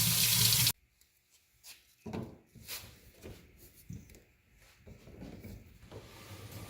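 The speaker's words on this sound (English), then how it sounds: "now we're going to take it and put it under some water so it sets where it is" A molded plastic part for a DIY kayak trolling rod holder is held under a running tap, with a brief rush of faucet water followed by wet splashes, handling knocks and clatter nearby.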